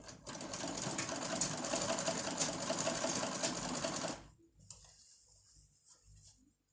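A sewing machine stitches fabric for a double peplum princess bustier top, a steady close rapid clatter for about four seconds before stopping, leaving quieter handling noises.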